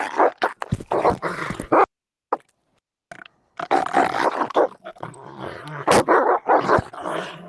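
A dog barks and growls aggressively in loud, close bursts with brief pauses between them, rough and snarling in tone, with no one speaking.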